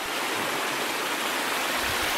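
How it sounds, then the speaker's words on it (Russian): April meltwater from a broken-through camp pond rushes past in a steady, broadband roar. The flow is continuous and moderately loud, with no voices. "Вода не так бурно идет, как в прежние годы"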